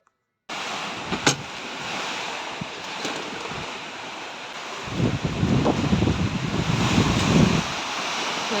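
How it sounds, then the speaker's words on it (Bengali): Strong wind blows during a rainstorm at a house, a constant broadband roar that swells into a louder, rougher gust midway before easing back. "তো এত জোরে হাওয়া দিচ্ছে যে পাশের বাড়িতে সুপারি গাছ ভেঙে পড়েছে"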